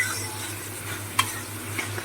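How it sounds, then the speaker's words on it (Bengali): Spice masala with corn kernels fries and gets stirred in a pan for mutton liver chorchori, a faint, steady low sizzle with one sharp utensil click partway through. "এই মশলাটাকে ভালো করে কষিয়ে নেব"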